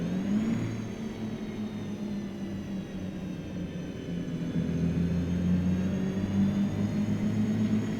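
Kenworth K100 cabover truck engine in American Truck Simulator drones steadily and loudly throughout, a low sustained rumble with slight pitch shifts as it pulls along, no talking.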